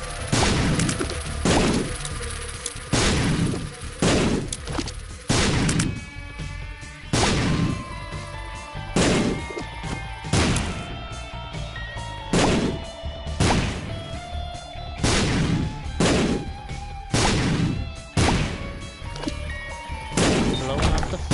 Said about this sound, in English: Blowing up the flies, throwing bombs at everything in my basement, blowing up.